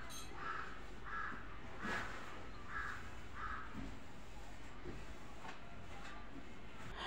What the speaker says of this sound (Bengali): আমার তো খুব ভালো লাগে সকালবেলায় কাক ডাকলে আর পাখির ডাক